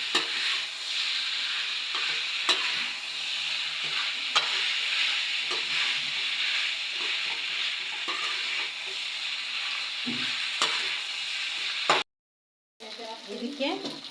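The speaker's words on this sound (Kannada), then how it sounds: "ಇದು ಒಂದು 5 ನಿಮಿಷ ಫ್ರೈ ಆಗಬೇಕು." Gobi manchurian fries in sauce with a continuous hissing sizzle, punctuated by repeated scraping clicks as it is stirred in the pan; the sound cuts out briefly near the end before resuming more quietly, with no voices.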